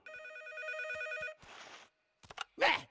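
A telephone bell rings in a steady electronic trill for over a second in a scene from the Boonie Bears animated film, followed by brief rustling, soft clatter and a short loud burst.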